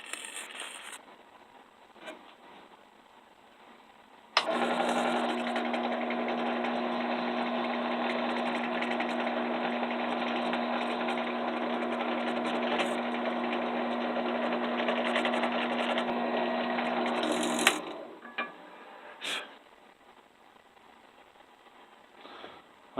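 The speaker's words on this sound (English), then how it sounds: "I've got that one side taped on there. I'm ready to drill the holes for it." A drill boring a hole through round antler knife handle scales held flat against a piece of wood, one side taped in place; a steady high whine runs about thirteen seconds, starting and stopping abruptly, with quiet handling noise around it.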